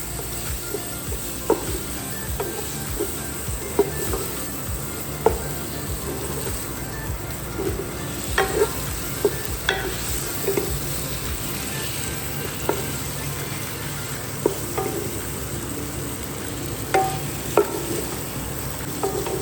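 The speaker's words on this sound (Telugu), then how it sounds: "and now I'm going to mix all those spices" Chicken masala and spices sizzle steadily in a nonstick kadai, with a spoon scraping and clicking against the pan at irregular intervals over the hiss of frying.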